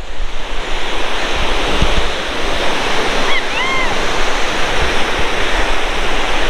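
Ocean surf rolls steadily onto a beach on Socotra Island, a continuous loud wash of breaking waves with wind buffeting the microphone and a few faint bird calls.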